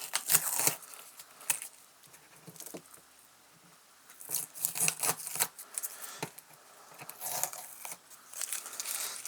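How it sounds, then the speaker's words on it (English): Tape is peeled off hardware on a vintage Eurorack suitcase build in short, crackling rips and crinkles, in several bursts separated by quiet pauses. The sound is close and fairly faint, with no talking. "go ahead and peel off the tape from the hardware"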